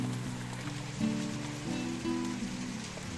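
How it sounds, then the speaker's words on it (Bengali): Heavy rain pours onto a rooftop in a continuous, dense hiss of drops that swells briefly and then holds steady, with no voices. "ছাদে কাজ করতে করতেই দেখুন কত জোরে বৃষ্টি এসে গেল"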